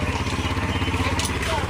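A motorcycle engine runs close by with a steady, throbbing putter that holds through the moment, while people talk over it.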